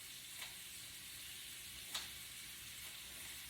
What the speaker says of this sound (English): I'm just gonna cut it up, throw it in the frying pan.